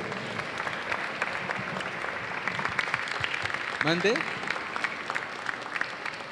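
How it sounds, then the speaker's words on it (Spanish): Audience applause for a guest at a book presentation on food policy, moderate and somewhat distant, continuing steadily with a brief spoken word from someone nearby partway through. "brindémosle un aplauso a nuestro invitado de hoy"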